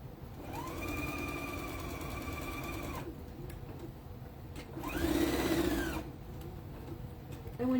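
A sewing machine stitches across a quilt binding in two steady runs, its motor whirring up, holding a close, even hum, then stopping between bursts.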